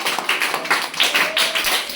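Children in a classroom clapping their hands together, a short burst of quick, close, uneven claps that fades within two seconds.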